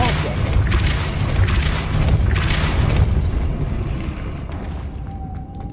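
Depulso force spell from Hogwarts Legacy, a series of loud booming magical blasts with rumbling low end, repeating through the first few seconds before fading into quieter game ambience and a faint tone.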